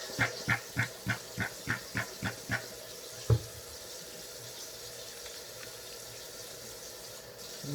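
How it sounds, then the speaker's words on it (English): Hands are washed in a kitchen under a running water tap: a quick series of about nine even, rhythmic knocks, then a steady, faint hiss of flowing water. "I'm gonna wash my hands."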